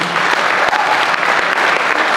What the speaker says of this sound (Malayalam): ഒന്ന് കൈയടിച്ച A huge round of applause please.